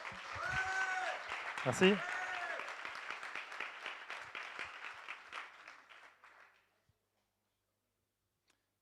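An audience applauds a startup pitch team in France, a warm burst of clapping that peaks early with a voice speaking over it, then thins out gradually and stops, leaving silence.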